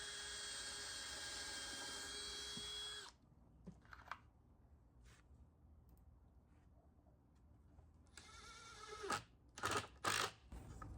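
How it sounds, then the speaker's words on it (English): A drill pre-drills holes in scrap wood for a pet's stepped doggie condo: a loud, high whine runs for about three seconds, then a quiet gap with light knocks, then a shorter burst of drilling. "I'm going to go ahead and pre-drill."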